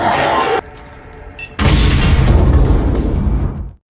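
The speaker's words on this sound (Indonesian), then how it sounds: "Dengan ledakan di pintu pesawat," A loud film explosion bursts at an airplane door in a heavy sudden boom, followed by a sustained roaring rumble that fades out, with a short sharp tone just before the blast.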